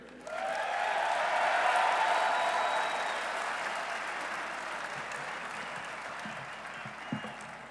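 Sustained applause from a large crowd at a university football coach's introductory press conference, steady clapping and cheering that holds for several seconds before gradually thinning out.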